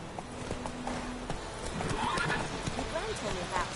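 A horse gallops in The Witcher 3 with rhythmic clip-clop hooves and a whinny, mixed under speech.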